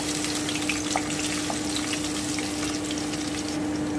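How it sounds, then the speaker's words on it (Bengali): Cumin seeds and crushed garlic fry gently in oil over lowered heat, giving a steady, even hiss of sizzling that holds close and constant throughout, with no talking. "আমি গোটা জিরেটা দিয়ে দিলাম রসুন থেতো করা রসুনটা দিয়ে দিলাম আমি একটুখানি ভেজে নিচ্ছি"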